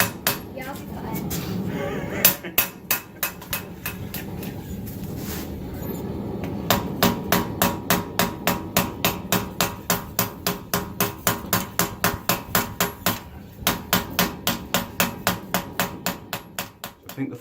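Steady hammer blows forge a clip point Bowie knife blank, the strikes falling in a fast, even rhythm on hot steel. The sharp ringing impacts are loud and close, with a short pause partway through before the hammering resumes.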